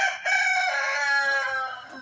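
A rooster crows loudly and close by, one long drawn-out cock-a-doodle-doo that trails off at the end.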